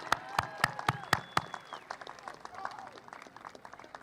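A commencement audience gives a few sharp, separate claps followed by thinner scattered clapping further off, with a voice speaking faintly over it.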